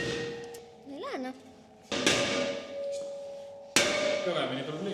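A few sharp metallic hammer blows strike a bolt being driven through a drilled hole in a garage, spaced out with ringing decay, while a person talks quietly between hits.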